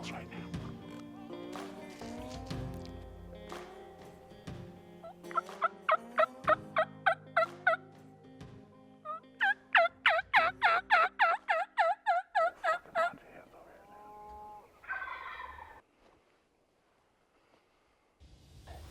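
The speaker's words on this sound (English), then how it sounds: "We got turkeys down below us and up here both on the roost, so they've just flown down" Wild turkeys gobble and cluck near and far at dawn after flying down from the roost, with rapid bursts of repeated calls; someone talks quietly underneath.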